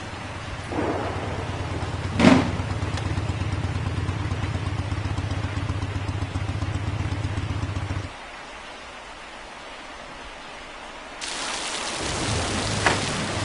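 Heavy rain pours down in a steady hiss, with a sharp crack of thunder early on; the downpour eases for a few seconds, then surges back loudly.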